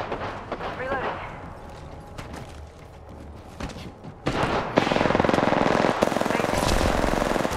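Gunfire in the shooter game Apex Legends: scattered shots early, then a dense, loud automatic burst rattling continuously through the second half, with a player's voice speaking briefly over it.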